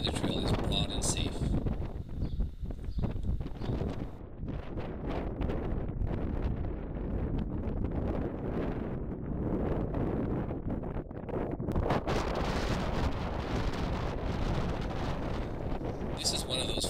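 Strong wind roars and buffets the microphone on an exposed mountain ridge trail, a steady loud rush with gusting swells throughout, without any talking.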